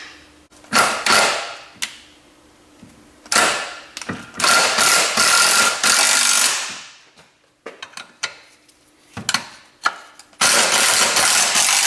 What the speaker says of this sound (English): Release all tension before you tighten these bolts.